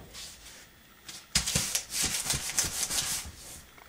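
Blue painter's tape pulled from the roll and pressed down during an Xbox 360 reflow repair: after about a second of quiet, a run of close, rasping rips and rubbing scrapes in a fast irregular rhythm.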